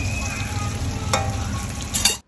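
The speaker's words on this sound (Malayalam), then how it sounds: "മീനൊക്കെ ആവശ്യത്തിനനുസരിച്ച് ഓർഡറിനനുസരിച്ച് ചൂടോടെ പൊരിച്ചു കൊടുക്കുക അല്ലേ ചെയ്യുന്നത്" Fish frying in a hot pan in a roadside rice-meal restaurant kitchen near the Wayanad ghat road in Kozhikode, a steady close sizzle with stirring and a sharp clatter midway, then a louder burst before cutting off.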